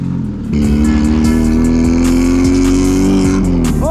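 A tuned car engine roars up loud and close after a brief quieter moment, then holds a high, steady revving drone.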